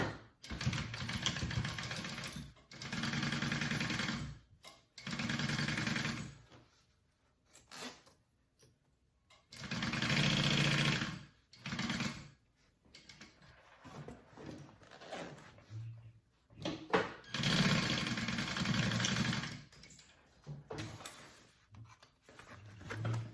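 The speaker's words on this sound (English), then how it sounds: "Baste that first so it doesn't move." Sewing machine basting the lining of a slouchy hobo bag, running in several loud bursts of a few seconds each, separated by short pauses and quieter handling noises.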